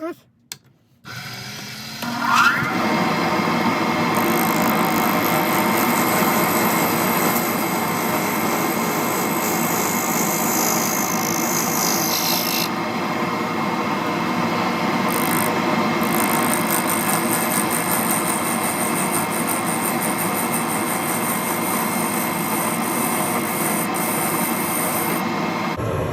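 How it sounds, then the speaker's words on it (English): Steady, continuous grinding rasp of a parting tool cutting a segmented pen blank on a lathe, loud and unbroken for over twenty seconds after a brief start-up. "Now I'm just going to take a parting tool and then just knock all those tips off."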